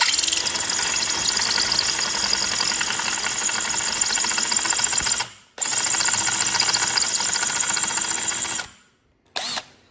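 A power drill whines loudly and steadily as it bores out a rivet in a Ferrari F430 Spider convertible top, stopping briefly twice near the end, with no talking.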